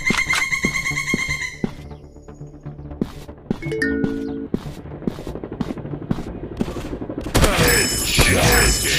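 Rapid gunshots and bursts of automatic fire from a 3D first-person shooter game, mixed with game effects, a tonal chime and mechanical reload clicks, growing into a dense, loud burst of shooting toward the end.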